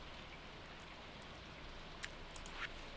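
Steady rain falls in a farming video game, a constant soft hiss of drops with a few brighter patters near the end, no talking.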